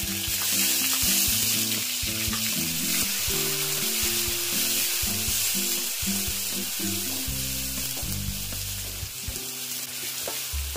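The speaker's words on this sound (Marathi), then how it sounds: "हा लसूण थोडासा लाल झाला की आपण त्यामध्ये हा कांदा जो चिरून ठेवलाय तो कांदा घालूया" Chopped onion and garlic frying in a pan for kolambi masala, a steady close sizzle with faint stirring scrapes and stepped musical tones running beneath.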